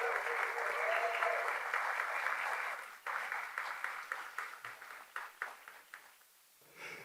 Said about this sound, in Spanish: Por favor, recibe con un aplauso al primer predicador